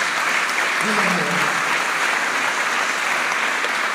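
Audience applause at a mission festival interview, a continuous even patter of many hands clapping, with a brief spoken word near the start.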